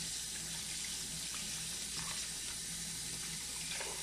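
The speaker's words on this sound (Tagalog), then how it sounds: "Hugasan natin ng mabuti" A kitchen tap runs steadily as fruit and vegetables are washed under the stream, a continuous even rush of water with faint handling sounds.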